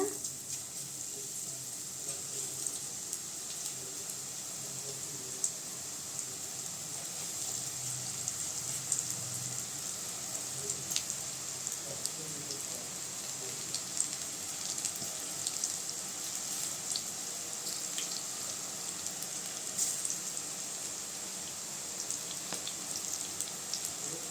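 Medhu pakkoda batter dropped in small pieces into hot oil, giving a steady, soft sizzle and gentle bubbling that runs evenly throughout with no talking.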